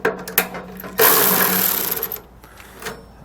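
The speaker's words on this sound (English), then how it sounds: "So we're just going to loosen these up with an 11mm socket." An 11mm socket ratchets as step bolts on manual fold-down RV steps are loosened, with a few metallic clicks followed by a sustained grinding ratchet burst, close and fairly loud.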